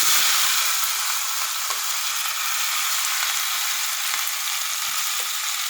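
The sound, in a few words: cumin and asafoetida spluttering in hot oil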